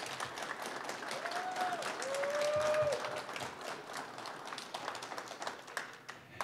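Audience applause at a job training graduation ceremony, a sustained round of clapping from a crowd in a hall that swells briefly and then tapers off. A few short vocal sounds rise above it.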